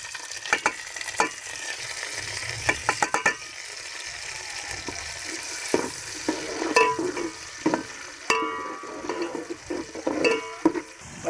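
Chopped onion frying in a pan for a mixed vegetable sabzi, a steady close sizzle broken by repeated scraping and clacking strokes of a spoon stirring against the metal.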